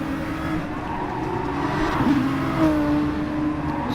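A Nissan Skyline GT3 race car in a racing video game at Bathurst holds a steady, loud engine drone, with a brief tire squeal rising midway as it corners.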